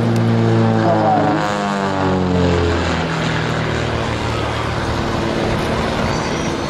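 A Pitts Special aerobatic biplane with a 200 hp engine at an air show, its propeller engine droning loud and near with a shifting pitch as it passes, fading into steady broadband rumble.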